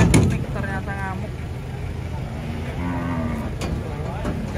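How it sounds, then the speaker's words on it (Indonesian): Agitated cattle, a cow bellowing in loud drawn-out moos over several seconds, with people talking excitedly nearby and low rumbling background noise. "Ternyata ngamuk sapi"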